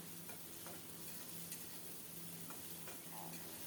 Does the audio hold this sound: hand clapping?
no